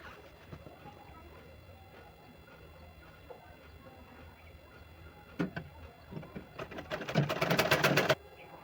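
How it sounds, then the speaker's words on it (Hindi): A sewing machine runs in a short, rapid burst of stitching on a Patiala salwar, rising toward the end after a stretch of quiet handling noises, close and fairly loud. "चलिए हम आपको सिल के दिखाते हैं।"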